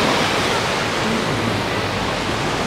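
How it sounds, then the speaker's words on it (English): Artificial waves in a wave pool at Aquatopia water park produce a steady, loud rushing wash of water that continues without a break and with no clear talk. "With all these artificial waves here."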